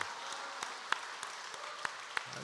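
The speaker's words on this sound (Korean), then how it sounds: "하나님께 감사와 영광의 박수 올려드리겠습니다" A church congregation at a Korean Sunday service gives brief, scattered applause, with a few sharp claps standing out against a faint, sparse patter of hands.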